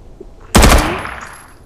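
A short, loud burst of rapid gunfire from the Farlight 84 video game, sharp and close, tailing off into a brief echoing decay.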